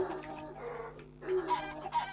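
A chicken in the Minecraft video game clucking in short, soft bursts, a few spaced calls over faint background sound.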